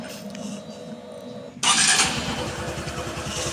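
A Honda Wave 110i motorcycle idles quietly at first, then the engine bursts into a loud, sustained rev that holds strong to the end, close to the listener.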